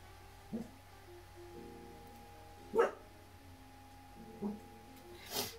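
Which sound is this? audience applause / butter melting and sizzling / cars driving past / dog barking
dog barking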